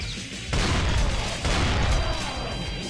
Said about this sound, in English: you can shoot people from so great out, such good distances, it's ridiculous